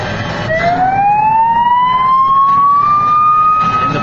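Loud police siren from the Taito Chase HQ2 arcade driving game, a single rising electronic wail that climbs steeply then holds a high steady tone over engine and game noise.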